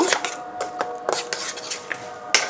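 Grated coconut and salt are mixed into palm pulp in a bowl, heard as quick, irregular scraping and clinking taps of a utensil against the dish, close and clear with no talking.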